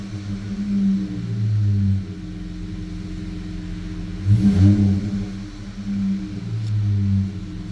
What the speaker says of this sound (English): You can hear my intake up there. It's like it's sucking that air in.